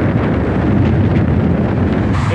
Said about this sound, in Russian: И очень ветрено.